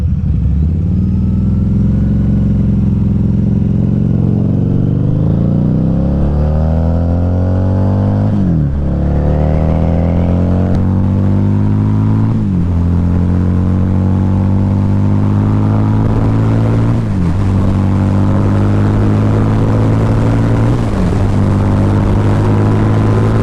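A 2012 Harley-Davidson V-Rod Muscle motorcycle engine pulls hard through repeated rising revs, each climb ending in a brief dip as it shifts, loud and steady throughout.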